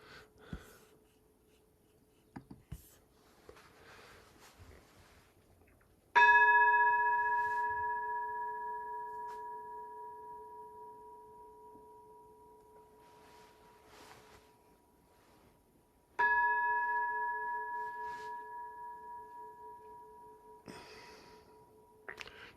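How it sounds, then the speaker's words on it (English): Two deep, resonant strikes of a temple bell during Zen meditation, each sounding a clear ringing tone that decays slowly over about ten seconds in a quiet room, with faint rustles between. "This is the sound of the temple bell."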